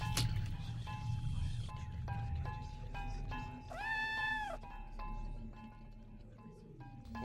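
A cat in the video game OFF lets out a single drawn-out yowl, loud and close, over a low game music background with sustained tones and no talking.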